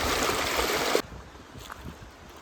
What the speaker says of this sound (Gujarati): જો આ રીતનું પાણી જાય છે.